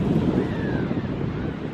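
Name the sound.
wind blowing on the coast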